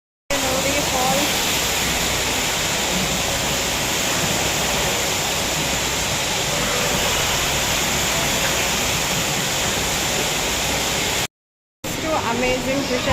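Water from an aquarium waterfall pours in a steady, close hiss that holds unbroken, with a brief dropout near the end before the rush resumes.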